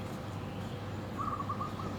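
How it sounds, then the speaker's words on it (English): Bird calls ring out beside the River Kwai in Kanchanaburi, a short series of faint repeated whistled notes in the second half over a steady low ambient hum of the riverside. "You hear the birds and like a fish jumping out of the water every now and then."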